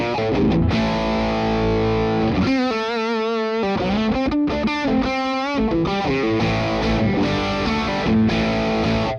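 Electric guitar played through a Boss DS1 distortion pedal with a wah in the chain, ringing out loud, thick distorted chords and sustained notes with a short melodic run in the middle, alone with no talking.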